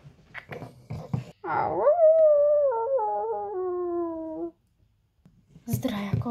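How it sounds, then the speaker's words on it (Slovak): Wolf howling outdoors in the countryside, a single drawn-out howl lasting a few seconds, holding a steady tone and sliding slightly downward, fairly loud, with people talking briefly before and after. "To je ten vlk, Alinka."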